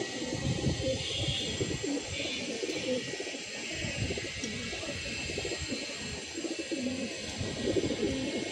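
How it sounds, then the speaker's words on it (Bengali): Pigeons coo steadily and close by in sunny, breezy weather as birds settle on a perch, a continuous layered cooing that runs throughout with no talking. "কবুতরগুলো উঠতেছে, 2টা কবুতর বসছে"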